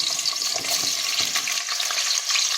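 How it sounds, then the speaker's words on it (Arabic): Onions frying in a hot pot, a close, crackling sizzle with bursts of stirring and spattering, steady and fairly loud with no voices. "هسه خليني أخلي البصل بالجدر لأن صار حار."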